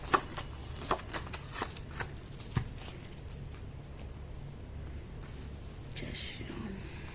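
Tarot cards are handled and drawn during a Hindi reading, with soft shuffling, light taps and card snaps in a quiet room, most active in the first few seconds and then sparse.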